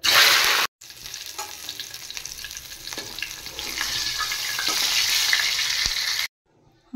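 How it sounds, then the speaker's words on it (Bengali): A rohu fish head fries in hot oil with a loud, close, crackling sizzle and occasional stirring scrapes, running steadily before cutting to near silence. "কচু শাক রান্না করার জন্য আমি রুই মাছের মাথা ভেজে নেব।"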